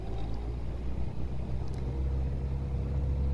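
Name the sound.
sailboat engine revving, struggling to gain speed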